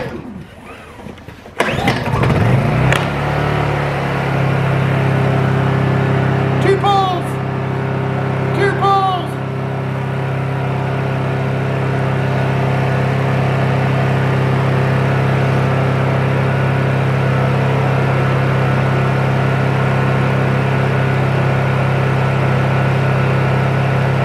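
A Honda EU2200i inverter generator converted to run on propane cranks with a loud pull, fires up and settles into a steady, droning idle that eases into a quieter hum, with voices briefly audible over it.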